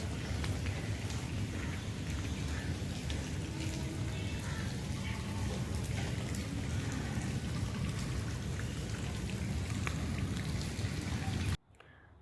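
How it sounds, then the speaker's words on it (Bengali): Steady rain pours onto a garden with flowering plants beside a house, a dense, even patter that continues without pause before stopping abruptly near the end. "দেখুন বৃষ্টি পড়ছে"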